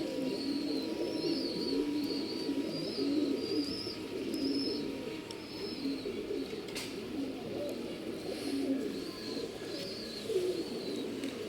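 Pigeons coo softly in repeated low, throaty phrases, with faint higher bird chirps in the background and no talking.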